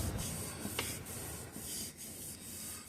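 A rag or hand works back and forth over a crankshaft journal on a 5.3-liter LS engine, giving a quiet, steady rubbing swish with soft repeated strokes, close up and low in level, with no speech.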